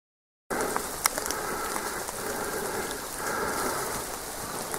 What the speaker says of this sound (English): We'll have to see if the rain abates a bit